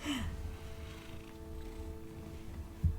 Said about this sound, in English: Hey, Mina, could you purr any louder?